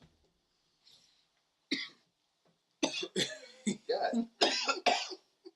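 A person coughing after drinking tequila, with a few faint early coughs and then a run of loud, harsh coughing bursts close to the mic, plus a muttered word.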